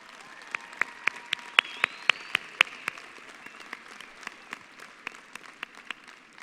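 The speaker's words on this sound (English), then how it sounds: "Let's give them a round of applause." A graduation audience claps, with distinct sharp claps over a dense wash of applause that thins out gradually, sounding some distance away in a large hall.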